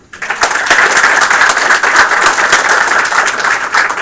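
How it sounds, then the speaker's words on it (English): Steady, dense applause from an audience at a game studio student build review night, a crowd clapping loudly and evenly for about four seconds after a brief quiet start. "Give me a round of applause, guys."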